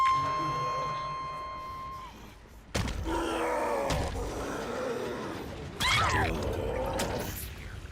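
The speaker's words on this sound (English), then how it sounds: "Have you ever heard the glass sound effects?" Sharp glass impacts from the Dead by Daylight video game crack out twice, each followed by a ringing, clattering decay, set among game ambience and a person's voice.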